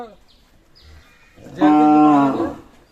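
A milking cow sold with her calf at a cattle market gives a single loud, close moo lasting about a second, after quiet background with faint voices.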